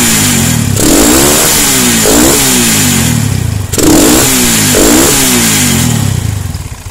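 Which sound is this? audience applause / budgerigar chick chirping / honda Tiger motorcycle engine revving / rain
honda Tiger motorcycle engine revving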